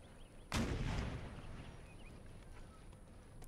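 Howitzer artillery fires once in Empire Total War, a single dull boom that rolls off into a long fading rumble, heard at a distance and alone.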